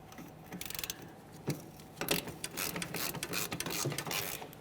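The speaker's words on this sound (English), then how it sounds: "Let's get our next mounting bolt out of here." A wrench ratchets out a wheel cylinder mounting bolt on the rear brake of a 2014-2019 Toyota Corolla, giving irregular bursts of close metallic clicking and scraping that come alone without talk.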